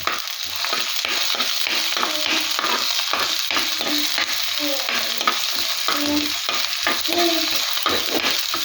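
Crushed shallots hit hot oil in a pan for a Kerala-style mackerel curry, a steady loud sizzle with stirring scrapes repeating throughout, nothing else over it.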